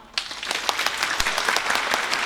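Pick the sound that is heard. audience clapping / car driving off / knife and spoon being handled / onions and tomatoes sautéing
audience clapping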